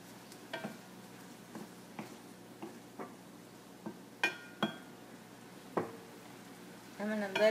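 Vegan beefless tips cooking in a pan give a faint, low sizzle, broken by a series of sharp clinks and taps of a utensil against the pan, with a louder burst of activity at the end.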